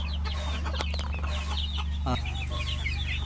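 Desi chickens cluck in a busy flock on a farm over a constant low mechanical hum, with scattered short calls and one sharper squawk near the middle.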